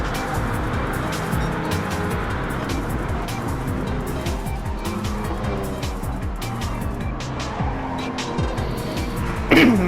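A Challenge Series race car drives hard with a continuous loud engine drone and shifting pitch, tires squealing under it, and a sharp burst right at the end.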